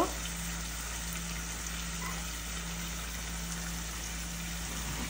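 Okra and potatoes frying together in a pan, giving a steady, even sizzle that continues unbroken throughout at moderate loudness.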